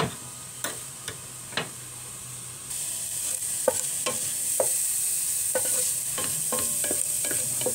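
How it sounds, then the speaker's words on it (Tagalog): Garlic soaked in oil frying in a pan while being stirred, a continuous hiss of sizzling oil punctuated by repeated sharp clicks and scrapes of the utensil against the pan, close and with no talking. "Atin na siyang hahalu-haluin hanggang sa maluto ang garlic."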